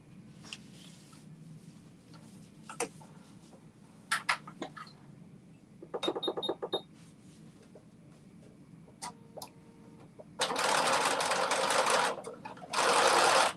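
A sewing machine understitching and topstitching a garment, with short rattling bursts of stitching between pauses and two longer, louder runs near the end, close up.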